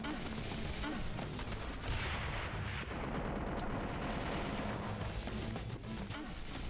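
Continuous dense gunfire and explosive blasts in the video game Wanted: Dead, a loud unbroken barrage of shots filling the whole stretch with little pause.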